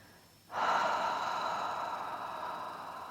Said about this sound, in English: just take a couple of deep breaths here